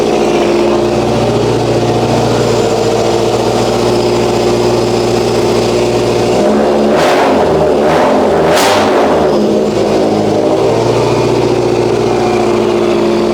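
A car engine idles with a steady rumble, then about halfway through it is revved in a few sharp bursts before settling again, loud and close, with no one speaking.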